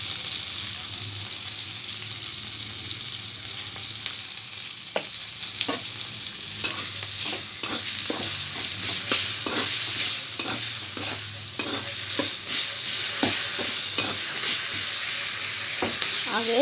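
Green chili, turmeric and cumin fry in a pan for a lentil dish made with jackfruit seeds, a steady sizzle under repeated stirring scrapes, close and continuous with no talk.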